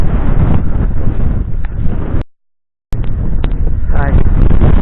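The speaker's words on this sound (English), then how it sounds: "It's windy up here." Gusty wind buffeting the microphone on Loweswater's Potts Hill, a loud low rumble roaring continuously with a brief dropout in the middle.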